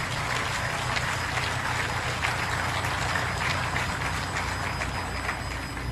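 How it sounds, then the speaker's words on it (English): Audience applause at a football ceremony before Cameroon versus Côte d'Ivoire at the Under-17 Africa Cup of Nations in Morocco: a dense, steady wash of clapping that holds at an even level for the whole stretch. "je vous prierai une fois de plus d'applaudir pour le professeur Joseph Orona"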